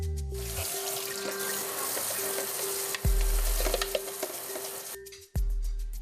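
Water sprays loudly from a tap as a cat's water fountain is washed in a sink, a steady hiss and splash that briefly cuts out and then resumes.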